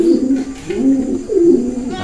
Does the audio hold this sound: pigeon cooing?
yes